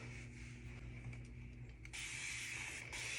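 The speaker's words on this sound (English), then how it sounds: "I definitely recommend these continuous spray misters." Steady misting hiss of a continuous spray mister on curly hair, close and fairly soft, growing stronger and brighter partway through with no talking.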